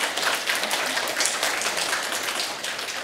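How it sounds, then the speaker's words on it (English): Audience applauding a lecturer at the end of an academic summer school talk, a dense, steady roomful of clapping that stays fairly loud and even for several seconds. "give a round of applause to Antti"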